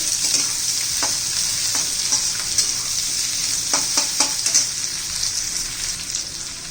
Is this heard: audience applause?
no